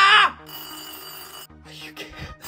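A telephone bell, newly installed in an apartment, rings in one loud, bright burst at the very start, then gives way to quieter mixed background noise.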